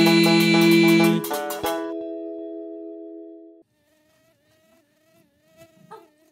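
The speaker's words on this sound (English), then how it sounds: "there's a bee on my feet" A bright musical chord rings out and fades, then a faint, thin buzzing drones on its own, wavering slightly like a bee hovering nearby.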